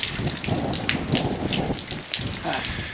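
Steady rain patters and hisses close by in Winchcombe in the Cotswolds, with irregular louder drops and splashes throughout.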